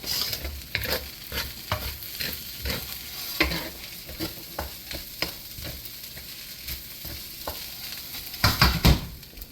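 Beef fried rice with oyster sauce is stirred and tossed in a hot pan, with a steady sizzle under rhythmic scraping strokes of a spatula and a louder flurry of scrapes near the end.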